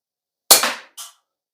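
A compact CO2 blowback BB pistol fires a single sharp shot outdoors, its crack trailing into a short decay, followed by a quieter metallic clack of the slide cycling.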